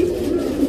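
A racing pigeon, a good-quality male, coos in a steady low warble that carries close and clear through the whole short moment, with no talk over it.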